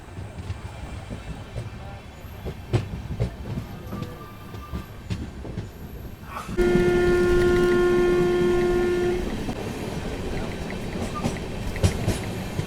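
The Ayodhya Express rake being shunted at Rudauli station rumbles with train clatter and scattered clanks, then a loud, steady horn-like tone and heavier rolling noise take over midway.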